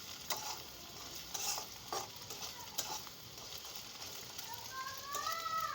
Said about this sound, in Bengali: নতুন আইটেমে ডিম ভাজা ট্রাই করে দেখবেন